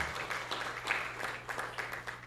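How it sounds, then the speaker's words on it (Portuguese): An audience gives a memorial round of applause for the late Marcão at a talk, the claps fairly soft and steady over a low constant hum. "Eu peço uma salva de palmas para o nosso querido Marcão"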